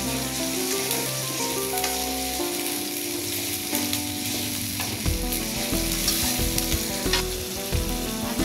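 Onion and ginger-garlic paste fry in a pan with a little added water, giving a strong, steady sizzle with stirring scrapes throughout and a louder burst of hissing about midway, close up with no voices.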